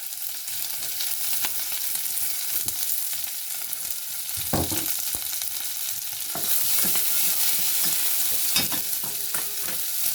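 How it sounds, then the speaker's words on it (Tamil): Onion and green chilli sauté in a pan for a Brussels sprouts curry, producing a steady close frying hiss with occasional louder scraping stirs, without any speech. "இதுக்குள்ள இப்போ வெங்காயம் பச்சை மிளகாய் போடுறோம்"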